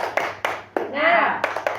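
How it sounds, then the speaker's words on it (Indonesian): A group of teachers performs a rhythmic spirit clap, a quick pattern of sharp hand claps in close succession with a brief vocal cry in the middle. "Tepuk semangat."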